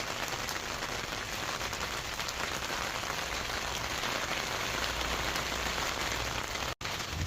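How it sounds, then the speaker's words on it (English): Steady rain falls on a surface nearby, a dense, even patter that continues without a break and with no voices, apart from a momentary dropout near the end. "I can hear the rain."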